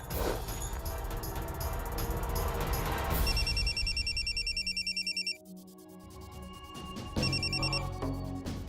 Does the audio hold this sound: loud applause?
no